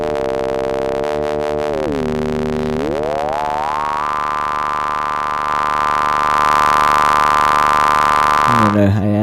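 ARP-2600 synthesizer ring modulator producing sustained electronic tones that bend and glide in pitch, stepping through shifting harmonic clusters before settling on a steady loud drone, with a brief burst near the end.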